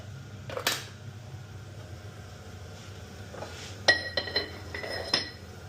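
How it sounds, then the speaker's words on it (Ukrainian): Salad being tossed with a classic sauce in a bowl, soft wet stirring followed by a few light clinks of utensil against the dish, close and quiet over a steady low hum. "І знову перемішуємо."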